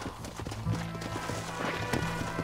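A horse gallops with rapid, steady hoofbeats in the video game Red Dead Redemption, the clip-clop continuing at moderate loudness over game ambience.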